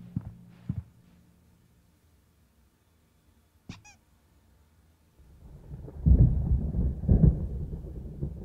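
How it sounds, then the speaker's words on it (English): Thunderstorm in Alan Wake: a few soft thumps and a brief sharp crack, then a deep rolling rumble of thunder swelling loudly near the end. "There's a storm coming. Oh, what a storm."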